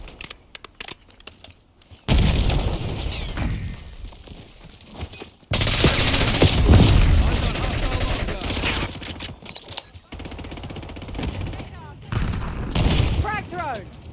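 Call of Duty Team Deathmatch battle with bursts of automatic gunfire, loud and close, separated by brief lulls, with a heavy blast from a frag grenade in the middle of the exchange and more rapid fire toward the end.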